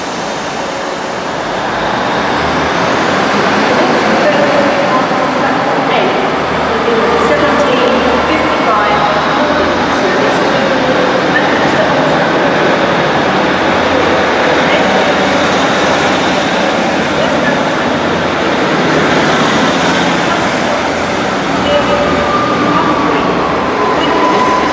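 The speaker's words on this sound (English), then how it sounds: "There goes an East Midlands train service to Norwich." An East Midlands train bound for Norwich passes through Liverpool Lime Street, giving a loud, steady rumble and roar that lasts throughout, with faint speech underneath.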